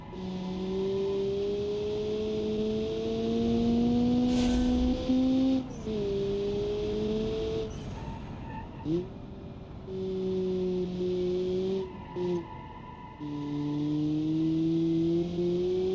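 A car driven in the BeamNG video game, its engine note climbing and dropping through repeated revs and gear changes, a steady loud drone with pitch sweeps and brief dips, heard alone.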